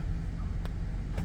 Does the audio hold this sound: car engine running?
yes